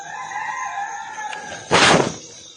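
A rooster crows once, a loud nearby burst in the early morning, following a stretch of quieter ambient hum and distant bird tones.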